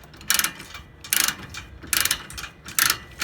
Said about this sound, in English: So as you can see, the chain is getting tighter. So now, then I can use the ratchet